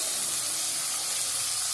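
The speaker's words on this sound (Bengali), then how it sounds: "ভালো করে লাল করে ভেজে নেব।" Chicken frying in a pan for dahi chicken, a steady faint hiss and sizzle with no break and no talk.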